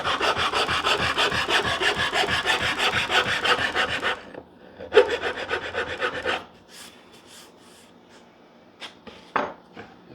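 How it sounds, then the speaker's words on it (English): A file rasps on a hardwood maple guitar neck in quick, rhythmic back-and-forth strokes, loud and close, for several seconds, then a short burst follows and a few scattered scrapes and taps trail off. "If I want to get a little more aggressive, since this is hardwood, I'll go to this more coarser file here."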